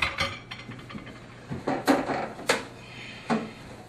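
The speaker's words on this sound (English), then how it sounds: "Take out the rotating pan." A microwave's rotating glass turntable pan is lifted out during cleaning, giving a few light clinks and clatters with scattered handling knocks, close and fairly quiet, with no voices.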